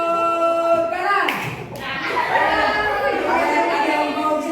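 A school class claps in a classroom clapping game, a short burst of hands striking together amid children's chatter, with a teacher's voice and a sustained tone present.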